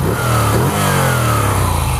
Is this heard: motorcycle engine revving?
yes